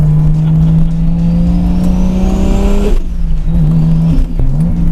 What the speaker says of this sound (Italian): Io apro in terza senza dar giù tutto il gas e la macchina non sta dritta.